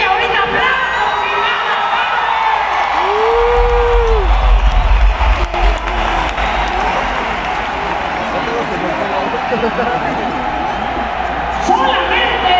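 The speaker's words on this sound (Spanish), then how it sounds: "ahorita aplauso" At a live rock concert, a crowd applauds and cheers, a noisy roar with whoops and someone talking over it, plus a brief rising tone and low rumble partway through.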